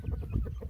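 An Indian gamecock (galo índio) rooster clucking softly nearby, a brief low burbling cluck with no other sounds around it.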